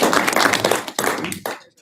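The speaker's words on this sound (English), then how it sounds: "let's give another round of applause" Short round of applause at a meeting, a brief burst of scattered claps from a small group, fairly close, fading out after under two seconds.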